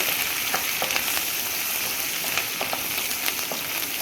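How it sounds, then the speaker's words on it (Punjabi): Green chilies sizzle and fry steadily in a pan with garlic while being stirred. Soft scraping clicks from the spoon punctuate the constant close hiss, with no voices. "ਹੁਣ ਆਪਾਂ ਇਹਦੇ ਵਿੱਚ ਪਾਣੇ ਆ ਹਰੀ ਮਿਰਚ ਇਸ ਤਰੀਕੇ ਆਪਾਂ ਨੂੰ ਹਿਲਾ ਲੈਣਾ"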